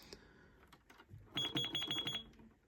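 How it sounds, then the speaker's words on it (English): A toy cash register till gives a rapid run of about eight short electronic beeps in quick succession, preceded by faint button clicks, close and fairly quiet. "I wanted a till that beeped instead of just a till that didn't do anything"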